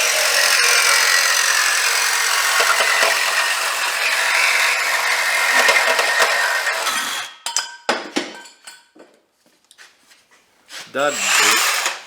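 A power saw cuts through the exhaust pipe of a 2015 Jeep Grand Cherokee during a resonator replacement, a loud continuous whine for about seven seconds, then stopping amid clanks and a brief spoken voice.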